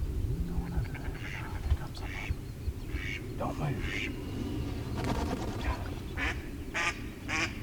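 Ducks in the field quack in short, scattered bursts at moderate distance, with a faint low voice underneath.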